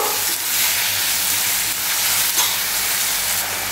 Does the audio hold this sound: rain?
no